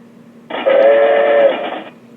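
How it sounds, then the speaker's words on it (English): A train whistle sounds one long, steady, loud tone lasting over a second, with a low rumble beneath it. "That's my train."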